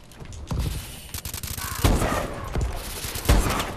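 Sniper rifle shots ring out in a first-person shooter game: three loud, sharp cracks spaced about 1.5 seconds apart, each with a booming tail, over busy game background noise.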